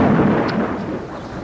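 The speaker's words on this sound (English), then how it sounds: "There was a crack of thunder and bang." A loud crack of thunder from a lightning strike, a broad rumbling roar that fills the whole stretch and fades only slightly.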